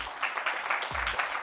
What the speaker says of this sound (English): Please give a big round of applause for Dan Bradbury.